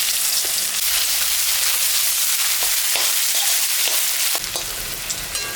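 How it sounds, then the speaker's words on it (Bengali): Onion frying in oil left from frying fish, along with dried red chilli and cumin seed, a continuous close sizzle with occasional sharp pops and stirring clicks. "পেঁয়াজটা ভাজা ভাজা হয়ে গেছে"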